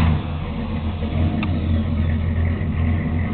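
A car engine with an aftermarket cam, running at a rough, lumpy idle close by, a steady low rumble with a slight rev midway.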